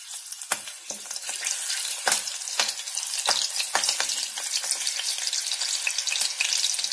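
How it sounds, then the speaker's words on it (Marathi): Green chillies sauté in hot oil for chhole bhature, giving a steady close crackling sizzle with sharp spitting pops scattered throughout, loud and continuous with no voices. "या तेलावरती आधी आपण ही मिरच्या 2 परतून घेणार आहोत सावकाश"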